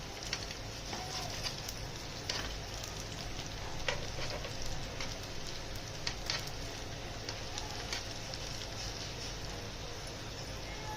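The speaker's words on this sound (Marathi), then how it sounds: "सुंदर तडका दिला बघा असा छानपैकी" Tadka tempering sizzling steadily in hot oil for semolina khandvi, a continuous close crackle with faint pops throughout, no talking.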